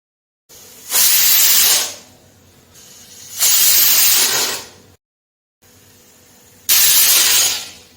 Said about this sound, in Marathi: मध्यम आचेवर कुकरला आपल्याला 3 शिट्ट्या करून घ्यायच्यात